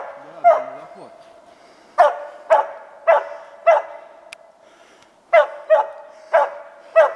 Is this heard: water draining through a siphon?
no